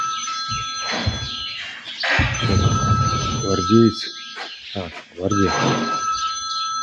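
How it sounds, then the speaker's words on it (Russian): A mobile phone rings with an incoming call at a horse-riding sports school, its steady electronic ringtone tones running continuously beneath nearby conversation. "Кто мне звонит?"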